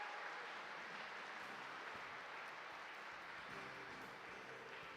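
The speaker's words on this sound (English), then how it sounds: "give them all a round of applause." Audience applause at a live Black Desert festival event, a steady broad clapping wash held at an even level for about five seconds with no speech over it.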